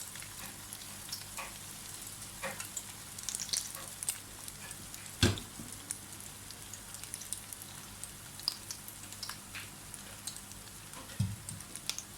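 Kebabs fry in hot oil with a faint, continuous crackling sizzle and scattered pops, one louder spatter standing out midway, heard alone without talk.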